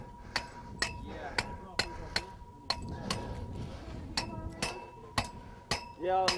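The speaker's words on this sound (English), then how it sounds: "I'll just pound it down with a hammer and cut off the ends if we need to" A hammer pounds metal parts of a beaver flow device outdoors with a dozen sharp ringing strikes, evenly spaced at first and then irregular, close and clear, with low talk between the blows.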